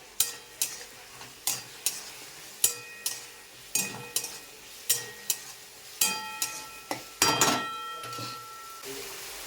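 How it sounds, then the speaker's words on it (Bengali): A spatula scrapes a pan in a steady rhythm of about a dozen strokes while tomato masala for ghugni fries. Each stroke brings a short clatter of metal, and a soft sizzle runs underneath. "এটাই ভালো করে কষিয়ে নেবো মশলাটাকে"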